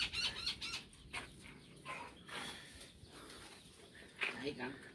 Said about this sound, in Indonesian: Ini banyak koleksi burung, hobi burung.